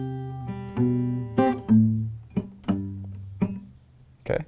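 Guitar phrase from a song arrangement with a plucked, muted G-string ghost note as a backbeat among about eight close, distinct plucked notes and short chord hits, unaccompanied and steady.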